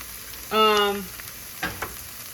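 Cubed boneless chicken fries in oil in a pan: a soft, steady sizzle with a short squeaky tonal scrape of a utensil partway through, followed by a couple of light taps.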